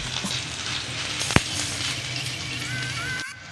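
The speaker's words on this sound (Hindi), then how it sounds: "अब देखिए इसको ऐसा ऐसा करके फ्राई करना है।" Manja badha, an Odia recipe, fries in a pan with a steady close sizzle and one sharp clack partway through.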